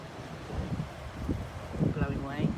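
Gusty wind buffets the microphone in a low, steady rumble, with a faint voice rising briefly near the end.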